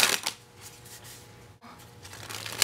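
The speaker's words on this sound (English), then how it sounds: "Here's a shuffle and a spring." A Quicksilver playing card deck is shuffled and sprung, crisp fluttering card riffles at the start and end with a quieter handling pause between, close and clear.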